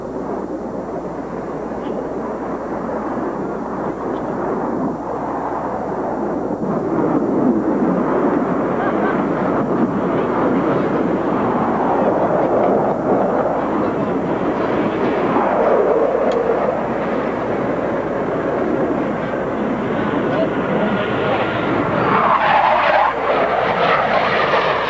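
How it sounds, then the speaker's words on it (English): A Top Gun air show jet aircraft accelerating to 500 mph for an individual reversal turn, a loud sustained roaring jet rumble that swells and builds across the whole stretch, heard outdoors from the crowd with no voices. "Pilot will now accelerate his aircraft to 500 miles per hour and execute an individual reversal"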